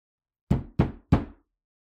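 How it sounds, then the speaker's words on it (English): Three firm, evenly spaced knocks land on grand doors, each hollow and resonant with a short decay, close and isolated against silence. "A knock at the grand doors, followed by a loud creak of the hinges."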